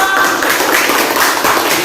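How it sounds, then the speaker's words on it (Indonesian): A classroom group applauds a physics presentation by group 3, giving a short burst of close, bright clapping that lasts under two seconds. "tepuk tangan untuk kelompok 3"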